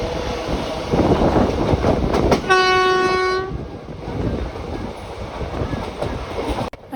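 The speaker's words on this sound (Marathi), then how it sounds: "आता ट्रेन सुटलेली आहे वानगाव स्टेशनवरून" A passenger train runs after leaving Vangaon station, heard from onboard as a steady rumbling rattle, with a loud horn blast of about one second partway through before the running noise eases.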